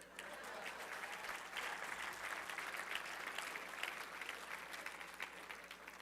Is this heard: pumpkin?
no